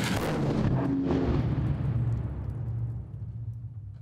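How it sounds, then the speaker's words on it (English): A test explosion set off at a maritime safety demonstration site: one loud, deep blast that bursts out at once and then rolls and rumbles for several seconds as it slowly fades, with no voices. "the explosions and the demonstrations that we do on the site"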